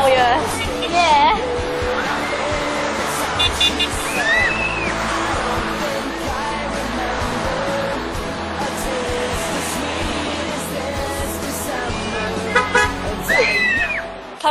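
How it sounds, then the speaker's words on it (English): Car horns honk repeatedly in busy street traffic around a group asking drivers to honk, short toots scattered over constant road noise with loud chatter and shouting close by. "Coming back to my place from a massive journey of getting people to honk for us."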